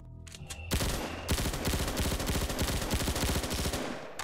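Rapid gunfire from a Roblox SCP: Facility Friday Night Fan game, a few scattered shots and then a loud, dense stream of shots that runs on with no talking.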